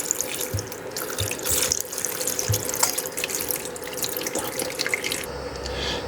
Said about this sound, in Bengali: ঠান্ডা পানি দিয়ে ধুয়ে নেব।